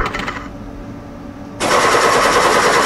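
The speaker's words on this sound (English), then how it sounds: "Rifle!" Rapid automatic gunfire from a rifle in the Henry Stickmin video game Night at the Museum, a dense, continuous rattle that starts, fades briefly, then resumes louder and sustained.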